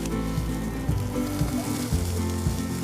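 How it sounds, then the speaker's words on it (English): Lamb searing on high heat on a grill or stovetop, giving a steady, close sizzle with low rhythmic thumps and shifts as pieces settle, loud and continuous with no talking. "Take it to your grill or take it to the stove and sear it on high heat."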